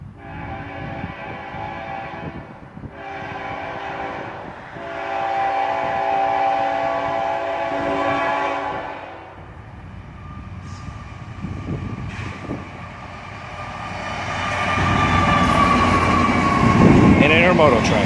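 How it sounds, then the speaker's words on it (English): An intermodal freight train led by an ET44AH locomotive approaches with long, loud horn blasts repeated several times, rumbling louder toward the end as the train nears. "we heard the first horn of the southbound coming"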